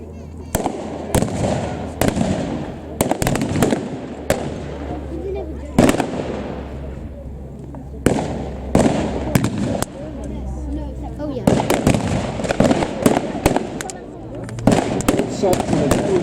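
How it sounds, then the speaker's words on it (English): Sten machine gun firing blanks at the Blaenavon battle display re-enactment, sharp bursts and single cracks of gunfire scattered across open ground, a commentator talking over them throughout. "Opening up at the top there, the unmistakable sound of the Sten."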